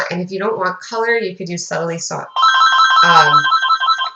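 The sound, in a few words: mobile phone ringtone ringing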